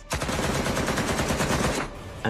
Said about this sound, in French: Des types ont déboulé dans le studio. Plein de coups de feu.